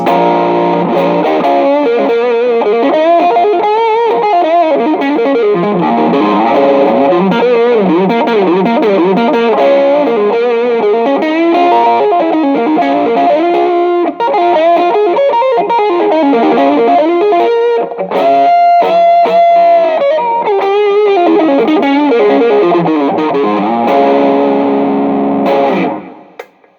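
Overdriven Toastar TJM-160-SBK electric guitar on the middle pickup, playing a continuous flowing lead line with bends and slides, loud and upfront, fading out at the end.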